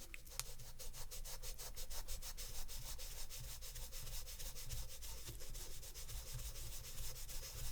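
A small metal mug is rubbed by hand in little circular motions along the narrow lip of its base, giving a continuous close, soft rhythmic scrubbing with no talk.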